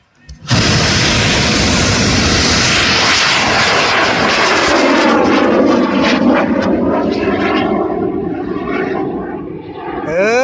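A loud, sustained roar of a Thai bang fai rocket launch bursts in and holds for about ten seconds, broad and rushing like a rocket motor, slowly thinning toward the end.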